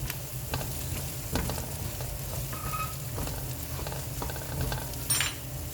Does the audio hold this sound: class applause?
no